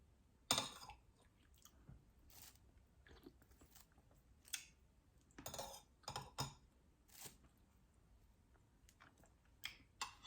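Someone eating spicy Thai tom saep soup with fish roe chews and bites in close, crisp bursts, with occasional clinks of spoon and bowl in a quiet room.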